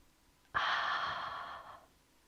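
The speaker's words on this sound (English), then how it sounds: "take a deep breath in, then out, and again" A single deep breath out during a children's yoga session: one long, close, breathy exhale that swells abruptly and fades over about a second and a half, with no talking.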